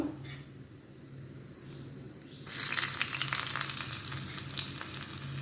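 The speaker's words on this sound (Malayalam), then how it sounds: "കടുക് പൊട്ടിക്കാം അതിനായിട്ട് ആദ്യം ഇത്തിരി എണ്ണയൊഴിച്ചു കടുകിട്ടു പൊട്ടി" Mustard seeds in a little hot oil, with urad dal, tempering for a Kerala koottu curry, quiet at first, then bursting into loud, close spluttering and crackling that keeps popping steadily to the end.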